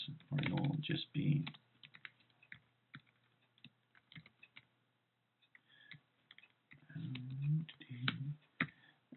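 Clicky bursts of typing on a computer keyboard enter Python code, irregular and close, with someone speaking at the start and end and quieter keystrokes between.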